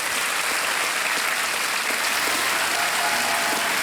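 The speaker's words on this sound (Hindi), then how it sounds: "तालियों के साथ इनका स्वागत।" Studio audience applause on a televised quiz show, welcoming a contestant who has just won 3,20,000 rupees; steady, dense clapping fills the whole stretch at close, even loudness with no voices on top.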